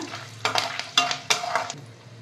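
Mustard seeds crackle and sputter in hot oil with sharp popping bursts, with a few louder clusters close by and scraping stirring sounds in between.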